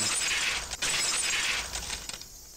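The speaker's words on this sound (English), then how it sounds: "The unpleasant piercing sound of shattered glass" Glass shatters loudly in the visual novel game Higurashi, a dense, bright burst of breaking shards that rings on for about two seconds before cutting off to near silence.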